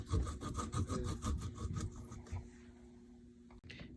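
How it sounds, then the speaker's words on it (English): Fresh ginger rasped across a grater in rapid rhythmic back-and-forth strokes, close and fairly soft, slowing and fading out after a couple of seconds. "this grater, the last bits of the ginger get kind of caught in the grater"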